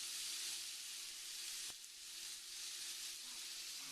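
Burger patties seasoned with salt sizzle in a pan, a steady bright hiss with a brief sharp crackle midway, close and uninterrupted.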